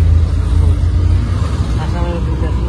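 A bus rolls along a road in the Assam and North Bengal region, its low engine rumble and road noise droning steadily throughout, with faint talk mixed in.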